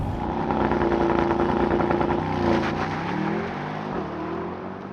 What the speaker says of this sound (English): Mercedes AMG SL63 4MATIC Plus with race start.